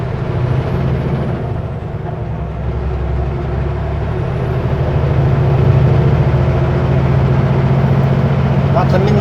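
A semi-truck's diesel engine labors steadily up a steep hill, a loud droning rumble from the cab that grows slightly heavier, with a driver talking over it.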